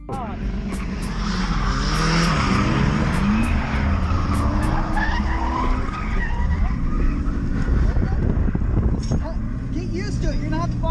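A BMW drifting at the Highland Drift Bash, with a loud, steady engine roar and screeching tire squeal throughout and people talking over it.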